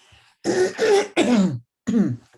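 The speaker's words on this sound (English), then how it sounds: "I'm going to clear my throat" A person clears their throat several times in quick, raspy bursts, close and fairly loud, with brief pauses between efforts.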